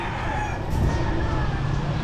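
A rooster crows amid the bustle of a Davao City slum in the Philippines, the call rising briefly over dense street noise for about two seconds, with a voice faintly present in the mix.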